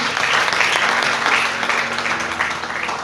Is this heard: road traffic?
no